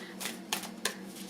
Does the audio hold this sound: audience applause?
no